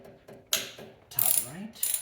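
A 10mm ratchet working a retaining bolt on an MR2 Spyder, giving a few quiet clicks followed by bursts of rapid ratcheting, close and alone.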